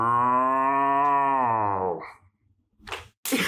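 A person imitates a cow, voicing one long, loud, sustained moo that lasts about two seconds and then breaks off, followed by brief indistinct noises.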